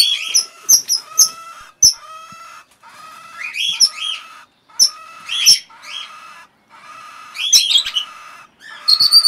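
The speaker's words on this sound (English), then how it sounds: "Other two in the box squawking away." Red-rumped parrot chicks squawking loudly and close in repeated harsh bursts, several rapid calls in clusters separated by short pauses, with no talk.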